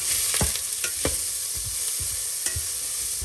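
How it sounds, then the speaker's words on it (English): Chopped onion sautés in a pot, crackling with a steady close sizzle while a utensil stirs and scrapes the bottom several times, with no talking. "Let's leave it to saute for 3 minutes"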